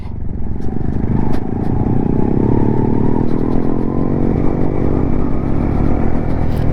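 Several Honda CB 125 Hornet motorcycles ride together up a broken, dusty hill road. Their engines make a steady, loud, close rumble that runs unbroken throughout, with faint clatter over it.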